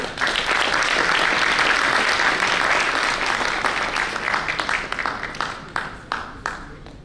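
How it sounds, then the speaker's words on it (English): Big round of applause from a conference audience of association members welcoming a speaker before his welcome address: sustained, dense clapping from many hands that gradually thins into scattered individual claps near the end. "Please join me in welcoming him with a big round of applause"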